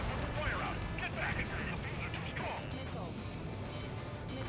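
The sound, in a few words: gunfire and chain-reaction explosions in video game Ace Combat 7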